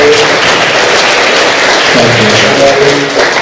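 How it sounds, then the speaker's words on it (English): Steady, dense applause from an audience at a fall open house, a continuous wash of many hands clapping at even loudness through to the end. "How about a round of applause for Ian?"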